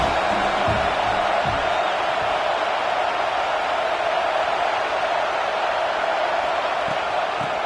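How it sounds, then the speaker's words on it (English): Football stadium crowd roaring steadily during a game against Penn State, a dense, continuous wash of cheering that stays loud and even throughout with no distinct voices standing out. "this crowd is turning it up a notch"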